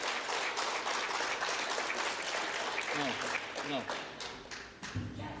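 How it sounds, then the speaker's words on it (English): Applause breaks out from the audience at a mayoral debate, a continuous clatter of many hands that tapers near the end as a voice speaks over it. "The audience, again, please hold your applause until the end of the debate."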